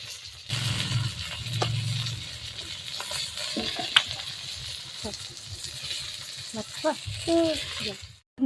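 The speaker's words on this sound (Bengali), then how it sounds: "আমি এখন এখানে ভেজে নিচ্ছি" Small fish fry in a home kitchen pan with a steady sizzle, nearby voices and scattered clatter rising over it now and then.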